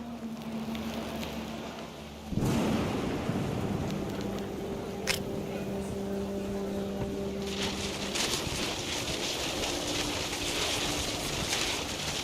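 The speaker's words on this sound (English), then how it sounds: "The rain came down in buckets then" A stormy scene in What Remains of Edith Finch: a sudden surge of broadband wind and heavy rain that stays as a steady, loud roar, with low droning tones and scattered sharp sounds mixed in.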